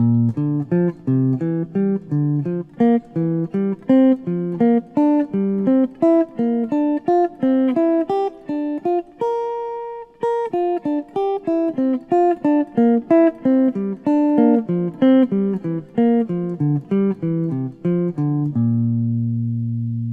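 Clean electronic keyboard tones play a long chain of rising and falling major arpeggios with inversions at a steady pace, with a brief pause midway and a held chord at the end.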